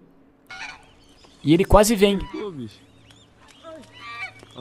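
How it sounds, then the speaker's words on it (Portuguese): Geese honk loudly and harshly in a burst of several calls while attacking a dog outdoors, with someone talking and laughing nearby before and after the cackling. "o ganso pegou o cachorro, irmão. Posição de ataque do ganso."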